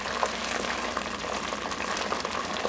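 Oil rendering lavender cut into small pieces sputters and crackles as water impurities boil off, a dense, continuous fizzing sizzle with sharp pops, close and steady.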